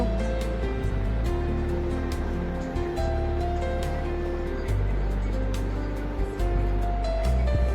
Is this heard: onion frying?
yes